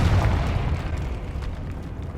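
Confringo fire spell exploding in the Hogwarts Legacy video game inside a catacomb tomb, a loud rumbling blast that fades gradually over two seconds.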